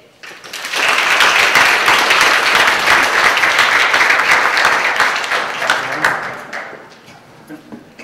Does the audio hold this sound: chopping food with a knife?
no